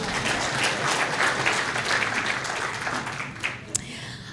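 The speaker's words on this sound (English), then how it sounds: "Then clap for me to encourage me." An audience at an International Women's Day event claps steadily as a dense, even wash of applause, fading slightly near the end, where a sharp cheer or whistle cuts through.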